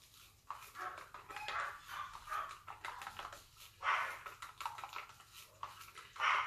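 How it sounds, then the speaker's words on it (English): Dogs bark repeatedly in short, uneven bursts, somewhat distant and muffled, over a low humming background. "My dogs are barking about."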